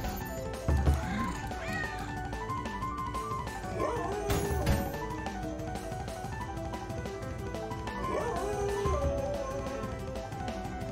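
Cat meowing in the video game Tactical Meow, with repeated meows and yowls over steady game music, plus some dog-like yips.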